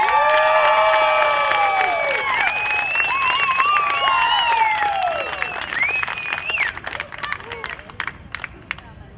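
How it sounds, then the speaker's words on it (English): At a community singing contest, an audience applauds and cheers loudly, with shouting voices over the clapping, before it tapers into scattered claps and light chatter. "So I want you to give them all a great big round of applause."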